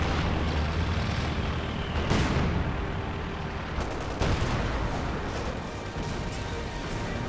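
Grenade and cannon blasts go off in Company of Heroes 2 battle gameplay in Lienne Forest, several sharp explosions and gunfire bursts over a continuous din of combat, loud and close.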